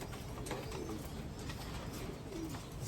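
Racing pigeons in a loft give soft, low cooing calls over a steady background hiss. The calls are faint and come twice within a few seconds.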